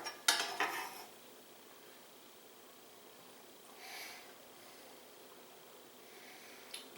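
A knife cutting up roasted peppers on a board for tartar sauce, a few brief scraping and tapping cuts at the start, a softer one midway and another at the end, close and quiet with no talk.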